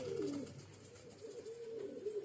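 Karanja breed pigeons coo softly nearby in low, wavering rolling calls, one at the start and another drawn-out coo later, with quiet background hiss between.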